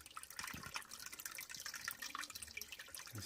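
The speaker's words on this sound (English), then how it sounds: "You see the water's coming out to the bottom of the foundation drain." Water flows and drips from a sump pump discharge at the bottom of a foundation drain, a steady trickling and splashing close by, with no talk.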